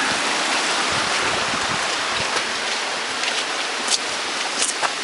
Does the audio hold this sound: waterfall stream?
yes